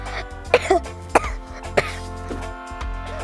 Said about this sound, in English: you should start coughing and sneezing into your elbow like this